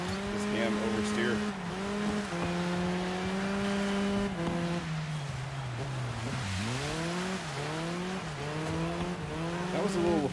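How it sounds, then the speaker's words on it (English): A car in the Dirt 5 racing game skids on ice under handbrake, with a loud engine whine that rises and falls across several tones and tire squeal sweeping through it. The sound stays close and continuous from start to finish. "That was a little handbrake action there."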